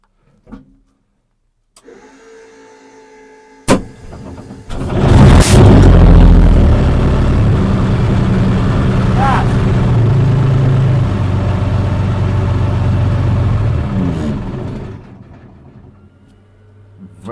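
A sharp hiss of compressed air from a starter cylinder, then an aging BMP infantry fighting vehicle's heavy diesel engine cranks and roars to life, settling into a loud, steady idle before fading slightly.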